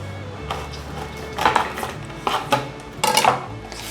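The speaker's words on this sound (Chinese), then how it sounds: "把豆腐取出来" Tofu being taken from its box and set onto a plate in a home kitchen, a few light clinks and scrapes against the dish in short irregular bursts, close by and moderately loud.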